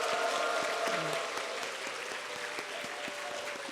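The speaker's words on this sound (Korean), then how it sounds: "우리 다음 세대 자녀들 모두를 환호성과 함께 정말로 따뜻한 박수로 이들을 격려하겠습니다." Warm, dense applause from a church congregation at a Friday evening service, a sustained wash of clapping hands that fills the room at an even level throughout.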